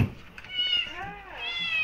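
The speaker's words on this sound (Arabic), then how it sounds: "ها قطيطات" Kittens meowing up close, several high, wavering cries following one another, with some background noise and a voice at the start.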